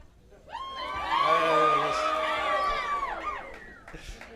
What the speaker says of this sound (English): I just hear cheering.